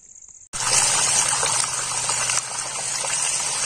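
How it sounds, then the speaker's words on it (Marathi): Water gushing from a pipe onto a farm field starts abruptly after a faint hum, then runs as a loud, steady rush with a constant low pump-like tone underneath. "साऱ्यावर पाणी चालू आहे"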